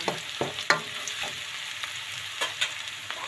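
Pork liver sizzling in a pan with garlic for a chayote dish, with a steady frying hiss broken by several sharp spatula scrapes and stirring clatters, close and clear with no talking.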